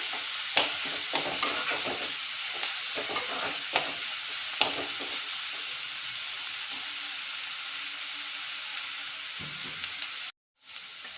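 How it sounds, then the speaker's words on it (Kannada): Onions and ginger fry in a pan as a mushroom masala is cooked, a steady broadband sizzle broken by repeated spoon-stirring scrapes, close and loud, with a brief dropout near the end. "ಈಗ ಈರುಳ್ಳಿ ಎಲ್ಲ ಚೆನ್ನಾಗಿ ಫ್ರೈ ಆಗಿದೆ, ಹಸಿ ವಾಸನೆ ಎಲ್ಲ ಹೋಗಿದೆ."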